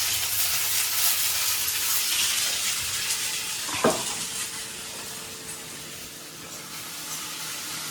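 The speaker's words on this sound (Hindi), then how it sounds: "चावलों को तड़का लगाया जा रहा है।" Rice being tempered in a pan for fried rice with leftover vegetables gives a steady, moderately loud frying sizzle throughout, with one brief clank of stirring near the middle and no talk.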